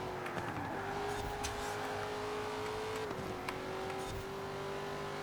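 A 1970s Holden drives in Forza Horizon 4. Its engine holds a steady, loud drone with a couple of quick shifts in pitch, and there is no talking.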